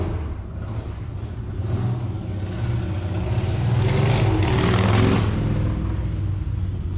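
Cars drive past outside, a steady road rumble that swells louder toward the middle and then eases off, with no one talking.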